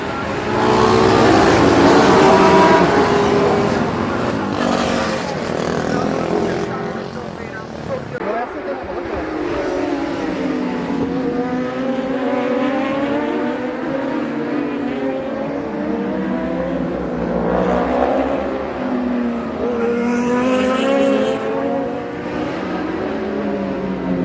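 Race cars rev hard and accelerate together at the start of a race at Hořice in 2019, loud and close at first, then rising and falling as the cars pull away, with talk over them.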